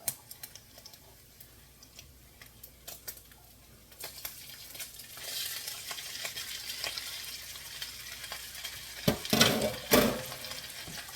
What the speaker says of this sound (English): I added another tablespoon of butter, another tablespoon of oil in the middle.